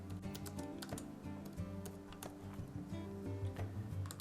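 Typing on a computer keyboard, a quick run of close, light key clicks over a steady soft background.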